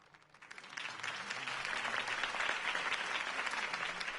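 Crowd applause rises after Harvey Dent's campaign speech in the Batman Telltale video game. It swells from a light start into steady, dense clapping that holds loud to the end.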